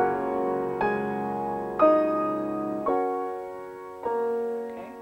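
Piano plays measure 23 of Debussy's Clair de lune with both hands: five slow, soft chords struck alone, each left to ring and fade before the next.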